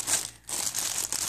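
A plastic bag holding a shipment of fifty red roses crinkles and rustles up close in a short burst of crackling handling noise, with a brief pause partway through.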